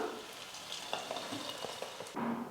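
Spoonfuls of wheat-flour and onion pakoda batter fry in hot oil, giving a soft, close bubbling sizzle with a few clinks and a brighter crackle near the end; no one talks.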